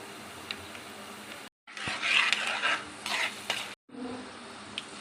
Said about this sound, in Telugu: మినప్పప్పు శనగపప్పు 1 స్పూన్ లైట్గా బాగా ఫ్రై చేసుకోవాలి, గోల్డెన్ బ్రౌన్ వచ్చే వరకు.